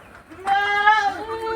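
A goat bleats once, a drawn-out wavering cry that is close and clear, from goats kept in a small elevated shed behind a house, amid quiet background.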